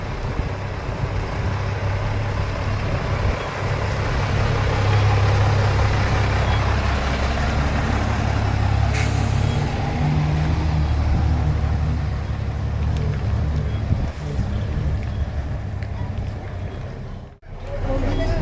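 A vintage Bristol bus at a classic coach rally rumbles past with a steady low engine drone that swells and fades across the scene, with faint background noise and no talk.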